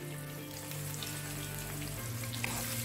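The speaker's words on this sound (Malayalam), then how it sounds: "ഇനി ഇതിലേക്ക് 2 വലിയ സവാള കട്ട് ചെയ്തത് ഇട്ട് കൊടുക്കുക." Chopped onions sizzle and fry in a hot pan for crab masala, a steady close crackling hiss with faint stirring scrapes, no voices.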